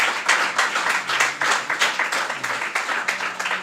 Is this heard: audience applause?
yes